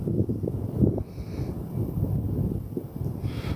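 Wind rumbles unevenly against the microphone outdoors at night, a low, continuous gusting that keeps churning at a moderate level from start to finish.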